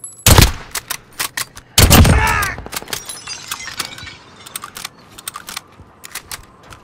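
Gunfire in Call of Duty: Modern Warfare, two loud close shots followed by a scattering of sharp, rapid cracks and pops of a firefight, with a brief whooshing sweep after the second blast.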